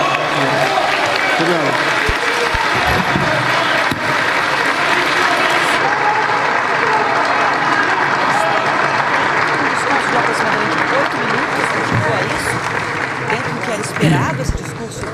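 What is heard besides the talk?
parliamentarians applauding a speaker's speech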